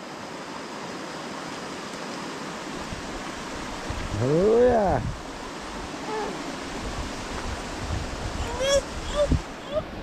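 A strong river current swollen by heavy rain at a ranch rushes as a steady, broad roar through the whole clip, with people talking and exclaiming over it partway through.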